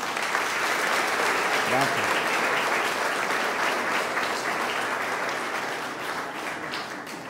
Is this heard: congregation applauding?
yes